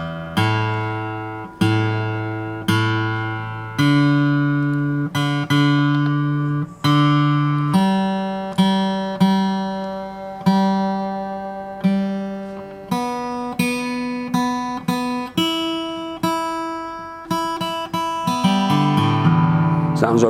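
Acoustic guitar freshly restrung and being tuned: individual strings plucked repeatedly, each note ringing and decaying before the next, with pitches shifting as it's adjusted, then several ringing harmonics toward the end.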